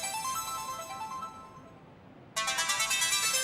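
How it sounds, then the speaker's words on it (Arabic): A telephone ringtone rings out in a harmonic electronic pattern, drops away briefly, then starts again loud and close in a repeating pulse; no talk over it. "تليفون."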